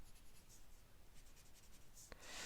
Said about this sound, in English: give a little bit of pressure to that pencil